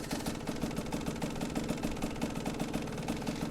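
A motorcycle fitted with a Rekluse auto clutch runs nearby, its engine thumping in a fast, even, lumpy idle rhythm with a slight rattle, steady throughout and without talk.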